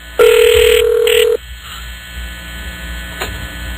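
A radio talk show's studio phone line rings with one loud, steady electronic tone lasting about a second, then cuts off to quiet room noise.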